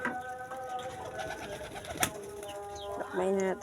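Pigeons coo in a low, steady murmur beside a loft, with a sharp click near the middle and a louder warbling coo toward the end, under a faint background voice.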